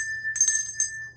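A hand bell rung in a few quick strokes, bright and close, its metallic ring hanging briefly between strikes with no voices.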